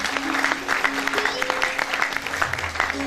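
An audience at a felicitation ceremony for a tabla player claps loudly in welcome, a dense burst of applause with a voice or tone sounding faintly beneath it.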